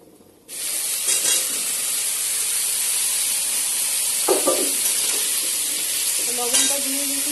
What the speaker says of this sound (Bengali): এই যে রাঁধুনি আর শুকনো লঙ্কা ফোড়ন দিয়ে দিয়েছি ডালে